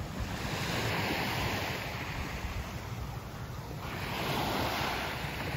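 Sea waves wash onto the beach at Laiya, Batangas, a continuous near roar of surf that swells and eases, mixed with gusty wind buffeting the microphone.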